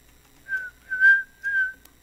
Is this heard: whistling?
yes